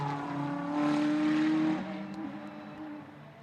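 A GT race car, a Ferrari in a 2019 Blancpain GT Sports Club race at Spa, roars past at close range with a sustained engine note that peaks and then fades as it moves away.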